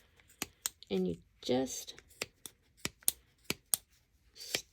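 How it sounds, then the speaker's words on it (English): Scissors snip through thick layers of yarn for a pom-pom, a rapid series of sharp close crunching cuts with brief pauses, while a person speaks briefly between them. "get your really good scissors, hold it shut, and sometimes it's a little hard because there's so many layers,"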